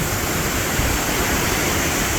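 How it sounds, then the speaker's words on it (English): Steady, loud roar of water blasting out from turbines at the side of a dam in Ohio, a dense broadband hiss with no pauses or voices. "can see the turbines blasting out water from the side of the dam"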